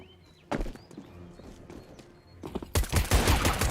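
Pistol fire in the video game CS:GO, a few sharp separate shots early on, then a dense, loud burst of rapid gunfire toward the end, with no talking.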